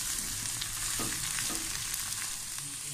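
Chopped capsicum lightly frying in a wok for egg fried rice, a dense, continuous close sizzle with faint stirring scrapes underneath, steady and unbroken throughout with no speech.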